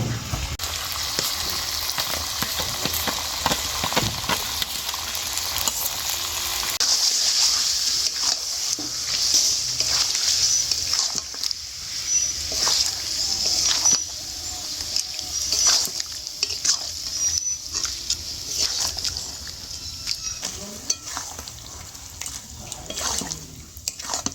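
Chicken with spinach paste fries and is stirred in a pan: a steady sizzle runs throughout, broken by repeated scraping strokes of the spatula, fairly close and loud, with brief voice sounds in the background.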